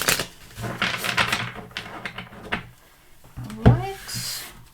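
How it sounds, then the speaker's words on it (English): A deck of tarot-style reading cards being shuffled by hand, with a run of quick riffling and tapping bursts followed by a sharper snap of cards near the end, close up with no talking. "one deck shuffled, 2 more to go"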